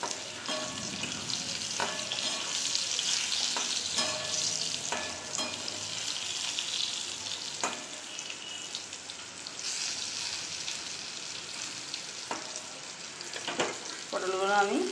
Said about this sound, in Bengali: পটলটা আমি ভেজে নেব ভালো করে